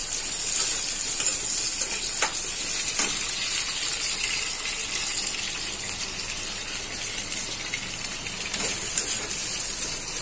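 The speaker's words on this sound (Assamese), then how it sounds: "তেলতে ফ্ৰাই কৰি ল'ম।" Potatoes fry in hot oil with a continuous, close crackling sizzle, steady throughout with occasional sharper pops and stirring scrapes.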